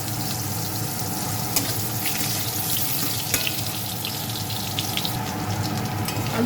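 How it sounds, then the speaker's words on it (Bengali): Potato pieces frying in oil in a kadai while cooking a Bengali katla fish curry with cauliflower, giving a steady, close, even sizzle with no talking. "এই তেলের মধ্যে আমি আলুটাও ভেজে নেব।"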